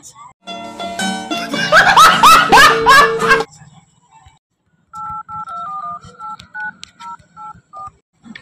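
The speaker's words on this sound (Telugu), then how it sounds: "రెస్క్యూ టీమ్ కి కాల్ చేద్దాం పదా" A phone keypad beeps out a series of dialing tones to call a rescue team, each short tone distinct and close, after a stretch of loud laughter and shrieking.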